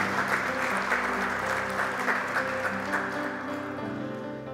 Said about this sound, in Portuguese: você pode aplaudi-lo por isso?